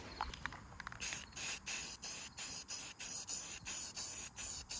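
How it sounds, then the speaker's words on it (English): Primer sprays onto bare metal under a car hood in a string of short, regular hissing bursts, close and steady, with nothing else heard. "So, throw some primer on it and then paint it red."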